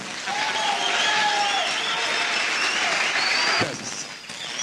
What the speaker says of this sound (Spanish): Aplaudan un poco más.